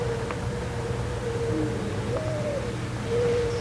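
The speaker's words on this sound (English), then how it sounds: "Listen closely before the owl howls" Inside eerie found-footage from the Backrooms, a faint owl-like tonal hoot rises and wavers over a steady low hum and hiss, distant and brief.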